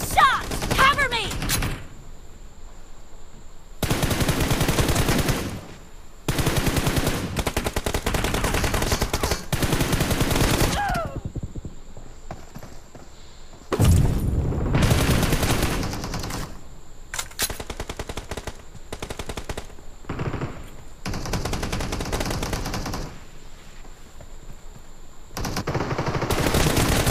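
Bursts of automatic gunfire in a PUBG Mobile squad match, loud repeated volleys separated by short pauses, with some quieter stretches between them.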